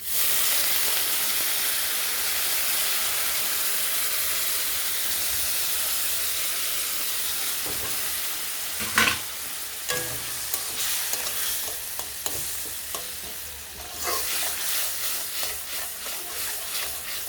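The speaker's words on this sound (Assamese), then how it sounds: "মই মছলাখিনিৰ সৈতে 2 পৰা 3 মিনিট টাইম টেঙা আৰু আলুখিনি ভাজি ল'লোঁ।" Tomato and potato pieces fry with a paste of dried red chilli and garlic in a pan for Assamese sour fish curry, giving a steady close sizzle and hiss, with scraping and clinking stirring sounds joining in partway.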